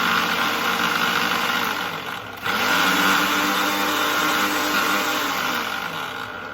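A kitchen blender whirs continuously as it purées spinach with vodka, a loud steady motor drone with a brief dip in pitch midway before spinning back up to full speed.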